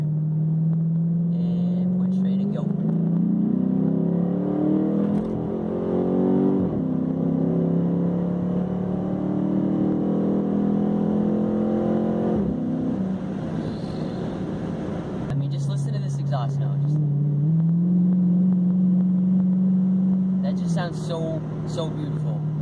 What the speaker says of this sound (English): That's SLP loudmouth exhaust, and it sounds so beautiful